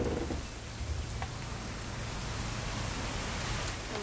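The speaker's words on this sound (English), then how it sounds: "It's gonna rain the whole weekend, isn't it?" Steady rainfall in the video game What Remains of Edith Finch, a continuous soft hiss of drops on surfaces with low rumbling underneath, even and unbroken throughout at a quiet level, with no talking.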